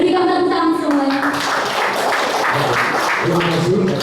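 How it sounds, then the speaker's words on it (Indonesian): Applause from an audience at an Indonesian volunteer declaration and inauguration event, dense sustained clapping throughout with a voice speaking over it at the start and again near the end. "Berikan tepuk tangan semuanya."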